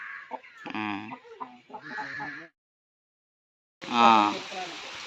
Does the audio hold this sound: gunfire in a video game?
no